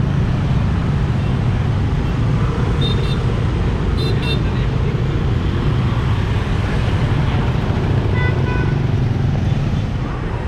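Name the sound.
motorbike traffic in Ho Chi Minh City street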